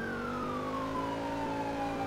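A wailing ambulance siren in a GTA roleplay game, its steady tone sweeping slowly downward and sounding loud and close over a low hum of traffic, with no talking.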